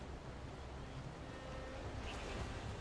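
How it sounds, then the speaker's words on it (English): Ocean waves surge and wash in a video game, a broad rushing roar with wind-like noise that swells slightly toward the end, no voices. "Wow, look at waves."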